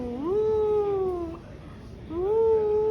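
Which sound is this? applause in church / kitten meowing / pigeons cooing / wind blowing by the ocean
kitten meowing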